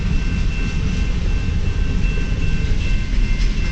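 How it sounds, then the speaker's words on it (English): Long CN westbound mixed freight train passing in Port Huron, Michigan: a loud, close, steady rumble and rolling roar of wagons that stays constant for the whole stretch. "Cool, that's a long train right there."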